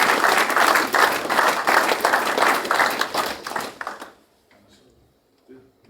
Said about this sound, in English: So we can give them a round of applause in the night.